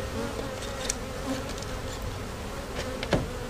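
Bees buzzing around an opened beehive during hive work, a dense close swarm drone with individual insects whizzing past now and then, no talk.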